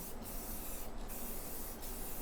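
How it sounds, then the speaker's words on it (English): Steady hiss of an aerosol spray can of adhesion promoter held down continuously, close and fairly loud, with no talking. "Let's spray adhesion promoter."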